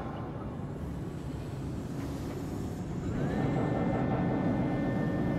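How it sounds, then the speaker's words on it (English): Heavy AT-AT assembly line machinery starts up in a Star Wars Battlefront 2 game level, a steady industrial rumble that swells louder midway, with a rising mechanical whine joining the drone. "If we start the assembly line, it should carry us inside."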